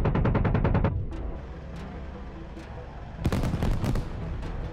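AH-64 Apache helicopter cannon firing in a video game, heard as a rapid burst of heavy, evenly spaced shots, then rotor and engine noise and a second, shorter burst of shots.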